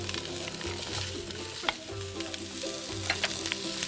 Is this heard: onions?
yes